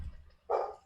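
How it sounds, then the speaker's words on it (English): A dog barks twice indoors in a home, a short loud burst standing out from quiet talk and room tone just before. "Excuse my dog."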